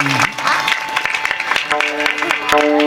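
Audience clapping at a women's Shiv Jayanti kirtan, a dense burst of applause from a crowd that runs steadily throughout, close and loud, with a harmonium-like drone and a voice faintly underneath.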